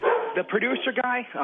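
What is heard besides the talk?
dog barking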